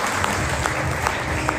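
Sustained audience applause at a Governor House event in Khyber Pakhtunkhwa welcoming the governor, steady dense clapping from a large crowd with a few sharper claps standing out.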